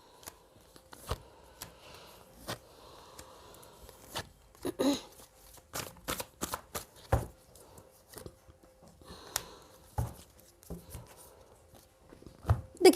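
Tarot cards being shuffled for a reading, with quick irregular riffles, slaps and soft clicks of the deck at close range in a quiet room.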